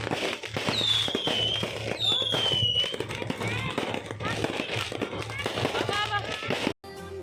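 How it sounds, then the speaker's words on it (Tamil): Fireworks and firecrackers go off at a New Year 2025 celebration, with whistling rockets rising and a dense string of crackling bursts throughout, loud and near, while people chatter and call out in the background. "அவ்வளோ ஒரு பட்டாசு சவுண்டு எல்லாமே சூப்பராக இருக்குது."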